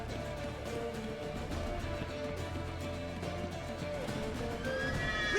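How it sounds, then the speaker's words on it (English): A horse neighs in the video game The Witcher 3, a whinny rising over steady game music and ambient sound, with hoof clip-clop faintly present and no talk. "Aparece un caballo aquí ahora"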